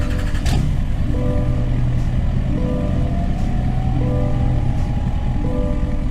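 A GM Yukon 3500 Denali Ultimate HD with an L5P Duramax diesel runs in a video game, a steady loud engine drone with rising and falling tones as it revs, heard alone throughout.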